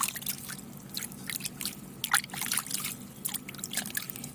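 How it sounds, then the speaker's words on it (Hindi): Fungicide-treated water is poured and sprinkled over seedlings in a garden, giving a soft, continuous trickle with scattered patters and drips, steady and fairly quiet throughout. "ये फंगीसाइड वाला पानी आपके सामने डाल रही हूँ।"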